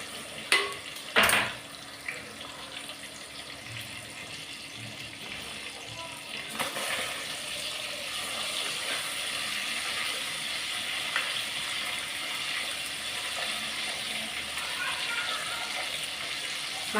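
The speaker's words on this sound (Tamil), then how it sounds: "நல்லா முருவலாக வறுக்கணும்." Fish frying in a hot pan for a South Indian fish curry: a steady, continuous sizzle, with a couple of sharp utensil knocks near the start.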